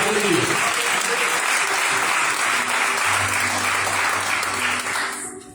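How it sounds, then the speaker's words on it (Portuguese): Church congregation applauding during an evening blessing service, loud sustained clapping throughout with a voice speaking underneath, a low tone entering partway and the clapping fading at the very end. "Vamos aplaudir Jesus para receber a glória de Deus."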